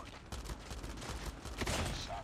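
Rapid gunfire from a Call of Duty Mobile match, steady dense bursts of shots throughout, with a voice faintly in the background.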